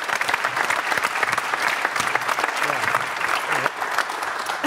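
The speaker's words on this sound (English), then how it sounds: "which I think actually deserves a massive round of applause." Studio audience applause for a former England rugby captain, a dense, steady wash of many hands clapping for the whole stretch, fairly close and loud with no speech over it.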